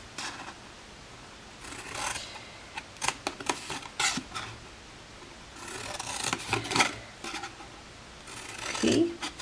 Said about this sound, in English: we are going to cut up each of the score lines we made at 2-inch intervals along the long side